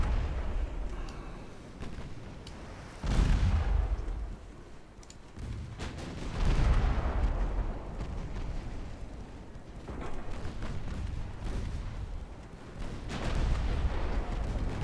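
Naval cannon fire in a Dreadnought Improvement Project battleship game, where heavy booming salvos roll out at intervals over a continuous low rumble of sea and engine, with no talking.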